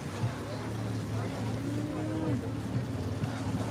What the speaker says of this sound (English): We could hear the engines going.